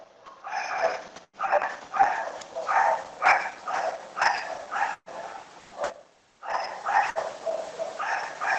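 Dogs bark repeatedly in rhythmic bursts, fairly close and loud, with brief pauses between volleys and no talking.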